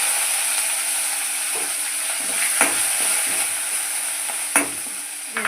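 Cumin, dried red chillies and curry leaves fry in hot oil for a peanut chutney tempering, giving a steady close sizzle with a few sharp crackles and stirring scrapes, no voices.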